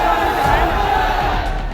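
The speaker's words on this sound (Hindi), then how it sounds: "अल्लाहू अकबर के नारे लगे" A street crowd in Saharanpur shouts Allahu Akbar slogans in unison, a loud massed chant of many voices that swells and holds close by.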